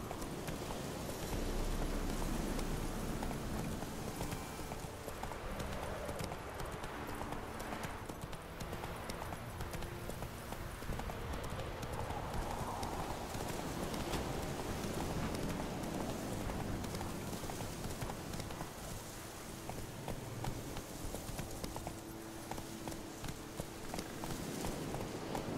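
A horse gallops in The Witcher 3 video game with a continuous, rapid clip-clop of hooves over a steady wash of rain-like ambient noise. The hoofbeats stay fairly faint and even throughout.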